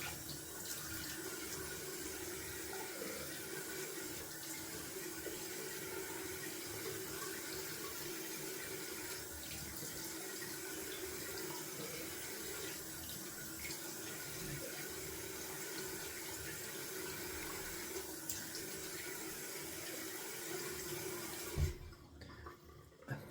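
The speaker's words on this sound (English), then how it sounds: "You will rinse off cold water." A bathroom tap runs steadily, cold water rinsing the face after a wet shave. A loud, continuous close rush of water cuts off near the end.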